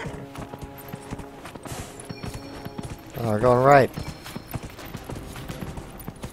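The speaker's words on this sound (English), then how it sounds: "Am I galloping? I guess I'm galloping." Galloping horse in Dragon Age: Inquisition during a race, quick rhythmic hoofbeats running throughout, a brief whinny near the middle, while someone talks over it.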